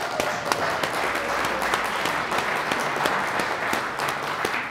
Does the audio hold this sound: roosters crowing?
no